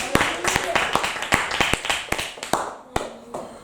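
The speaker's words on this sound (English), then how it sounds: "Clap your hands and celebrate Jesus." Church congregation clapping hands in praise, a loud, fast, uneven run of sharp claps close by, carrying on steadily with voices faintly underneath.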